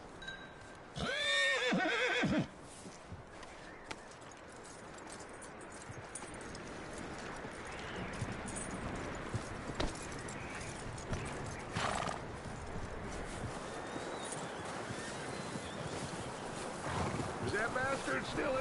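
In the video game Red Dead Redemption 2, a horse gives a loud whinny early on, followed by a long stretch of steady, windy outdoor ambience with faint scattered knocks.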